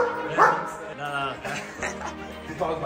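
Hunting dogs bark and yip at a hunting ground, several short bursts close by, with people talking over the barking.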